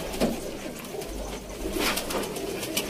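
Pigeons coo softly at a loft in Sialkot, a low burbling murmur repeating through the clip beneath steady background hiss, with a slightly louder swell near the end.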